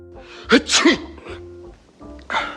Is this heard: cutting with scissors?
no